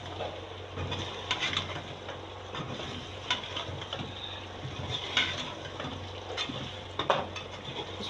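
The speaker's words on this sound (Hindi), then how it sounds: "जीरा, काली मिर्चें, जीरा डाल दिया हमने। इसको हम भून लेंगे।" Cumin seeds and black peppercorns roasting in a pan for Balochi tikka, giving a low steady sizzle with faint stirring scrapes and occasional clicks of spoon against metal, moderately quiet and without talk.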